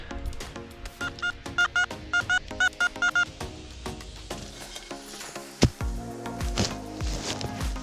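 Metal detector sweeping a forest clearing in Warmia, Poland, with a buried coin below: a run of short, evenly spaced electronic beeps, then a sharp click and rustling handling noise close by.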